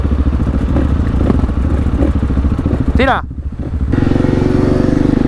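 Supermoto motorcycle idling close by at a supermotard event in Girona, a loud, steady thumping engine rumble with a brief dip and sweep partway through, while people talk over it.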